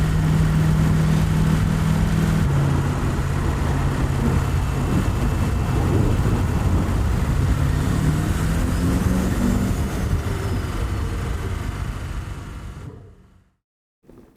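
A turbocharged TVR engine drones loudly and steadily up close, its pitch rising and falling through revs before cutting off abruptly near the end.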